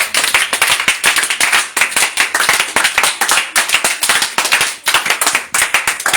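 A congregation at a prayer meeting claps loudly and close together in a fast, continuous rhythm to praise the Lord, with no talk over it.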